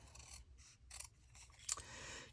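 Scissors snip through paper during a paper craft project, a series of short, crisp cuts with brief pauses, close up and fairly quiet.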